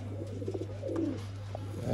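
Pigeons, a male tail-feathered breed kept in a loft, coo softly and repeatedly at close range over a steady low electrical hum, with no talk.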